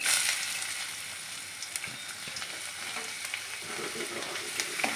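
Mixed vegetables with green gram and a pinch of asafoetida are sautéed in a pan for a poriyal, a continuous close sizzle with scattered scraping stirs and small pops.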